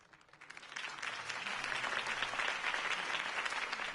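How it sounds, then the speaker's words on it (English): Crowd applause following a campaign speech in the Batman: The Telltale Series video game, swelling in over the first second into steady, dense clapping that holds until the end. "If only Mr. Wayne, my campaign's largest backer, could have heard that applause"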